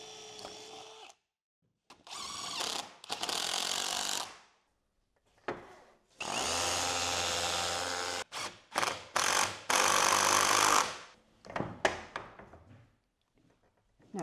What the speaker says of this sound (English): I'm now drilling and screwing 4 screws to the floor